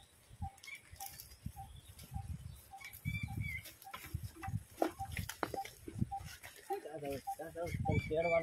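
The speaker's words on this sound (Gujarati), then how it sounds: "આ બધા ગાડર બકરા" Goats and sheep grazing at a village riverside, with repeated short bleats and calls scattered through the clip, some rising into longer cries near the end, under an outdoor ambience with brief rustles.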